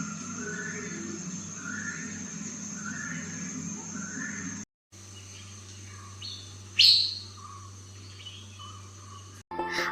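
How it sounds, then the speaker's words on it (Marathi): Birds chirp and twitter through the soundscape of a nature interpretation centre, with a steady background hum, a brief gap, and one sharper, louder call partway through. "दुसऱ्या दालनात पाऊल ठेवलं तेव्हा सुरू होता पक्ष्यांचा किलबिलाट."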